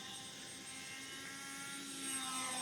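A Sukhoi RC model airplane flies overhead, its engine a steady high-pitched whine that swells louder toward the end.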